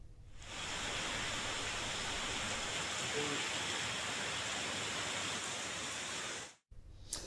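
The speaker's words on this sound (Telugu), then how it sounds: "హైదరాబాద్ వ్యాప్తంగా వాన దంచి కొట్టింది." Heavy rain pours across Hyderabad as a steady, loud, dense hiss that holds evenly for about six seconds before cutting off abruptly near the end.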